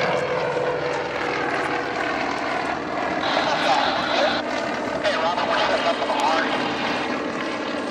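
Two Red Thunder aerobatic propeller airplanes pass side by side in formation at the 2011 Courtland Air Show, a steady droning engine roar that swells slightly as they go by, with a commentator talking over it.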